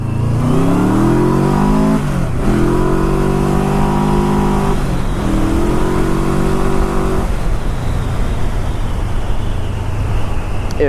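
A Yamaha Royal Star Deluxe cruiser motorcycle accelerating hard, its engine note climbing through the gears in loud, close rising sweeps with brief dips at each shift.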